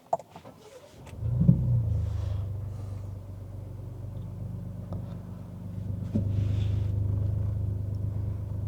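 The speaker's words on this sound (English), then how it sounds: "let's go ahead and fire up the truck" A 2025 Ford Ranger Raptor mid-size truck engine cranks and fires up, settling into a steady low idle rumble that swells slightly louder near the end, heard close from inside the cab.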